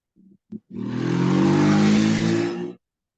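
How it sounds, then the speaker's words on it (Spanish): Two brief low blips, then a nearby motorcycle engine revving up and passing loudly for about two seconds before cutting off abruptly. "ahí se escuchó una moto"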